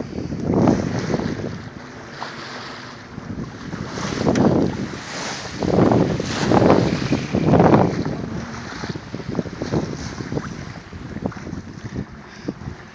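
Wind gusts of about 10 to 15 miles per hour buffet the microphone aboard a sailboat, rising and falling in loud rushing surges over the wash of water against the hull.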